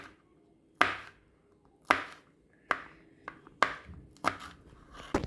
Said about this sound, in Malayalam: പച്ചമുളക് ഇവിടെ നല്ല നൈസായിട്ട് അരിഞ്ഞു കൊടുക്കുകയാണ്